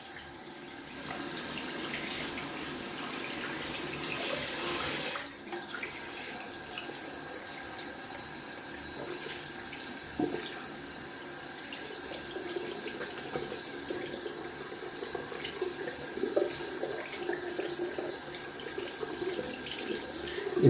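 Tap water runs steadily while a dense 30mm synthetic shaving brush knot is rinsed and worked under it, a continuous close sink stream that shifts slightly partway through, with no talking.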